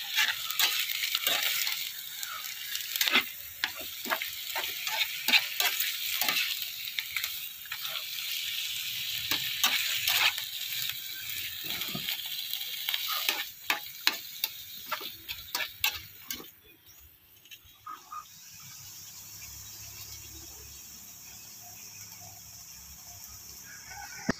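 Dried fish frying in oil for breakfast, with crackling sizzle and irregular sharp pops and ticks for most of the stretch, then settling into a softer steady hiss near the end, no talk.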